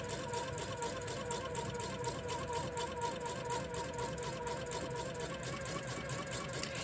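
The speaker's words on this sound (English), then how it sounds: "And sew again along my line." Sewing machine stitching steadily along a line while piecing half square triangle quilt blocks, a fast even needle rhythm with a motor hum, close and quiet, with no voices.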